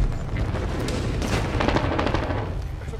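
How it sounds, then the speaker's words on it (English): A shotgun blast in a video game fight lands amid a continuous dense roar of gunfire and explosions, loud and close throughout. "took a shotgun blast"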